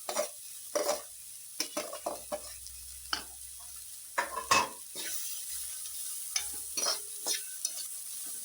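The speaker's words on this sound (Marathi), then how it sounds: "आता मी त्याच्यात कांदा भाजायला घेते हे बघा कांदा भाजायला घेते" Chopped onion frying in a pan for Malvani-style bitter gourd bhaji: a low, quiet sizzle broken by sparse scrapes and clinks of a spoon stirring against the pan, with no talking.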